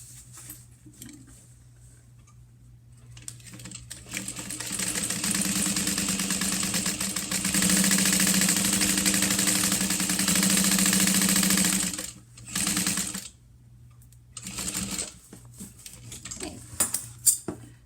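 A sewing machine base stitches fabric pieces together, running in a long, steady mechanical whir for several seconds before breaking into a few short, stop-start bursts of stitching.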